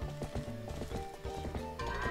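Goats charging across the ground in The Legend of Zelda: Twilight Princess on the Wii, a quick run of hoof thuds and clatter over in-game music, with no talking.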